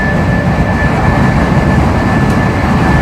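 An Intercity 225 train running between Peterborough and London, heard from inside as a loud, steady rumbling roar with a faint constant whine, no voices.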